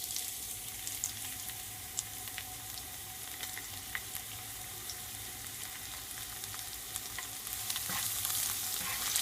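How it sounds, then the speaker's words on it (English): Garlic and chili frying in hot vegetable oil for vegetarian fried rice, a continuous soft sizzle with occasional small crackles and stirring sounds, rising slightly toward the end. "we're going to cook some garlic and chili first."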